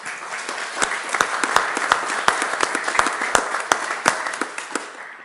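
A church congregation at Sunday Mass breaks into applause, a dense, steady patter of many hands clapping close by, with sharper individual claps standing out and no talk over it.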